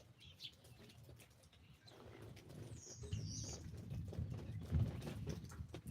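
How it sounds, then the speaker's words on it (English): Birds coo and flutter faintly during a lightning storm, with soft dove-like calls and brief wing flaps in a hushed, still outdoor setting. "But you hear the birds"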